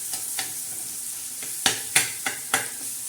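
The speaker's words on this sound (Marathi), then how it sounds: "बारीक असं हे बघा असं टमाटे ठेचून घ्यायचे" Tomatoes crushed for a green chilli, garlic and coriander chutney, heard as a few sharp, wet squelching thuds and scrapes near the end, close and fairly quiet, with no talk.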